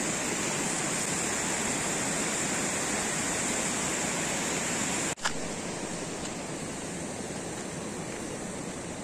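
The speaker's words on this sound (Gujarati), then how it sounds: "અહીંયા પાણી જોવો છો આવે છે." Water rushes steadily past a Swiss village in a loud, constant roar, filling the whole stretch with an unbroken wash of sound broken only by one brief knock near the middle.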